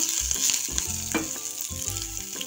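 Chopped garlic and whole curry leaves fry lightly in a pan for a spicy paneer starter, a steady close sizzle with soft crackles and stirring scrapes, no voices.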